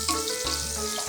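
Sliced onions and cashews frying in a pan, a brief close crackling sizzle with faint stirring scrapes.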